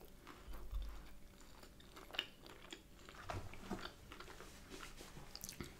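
Someone eats a loaded brioche breakfast bagel topped with egg and mushrooms, giving close, soft chewing and biting sounds with a few crunchy bites and faint mouth noises, and no talking.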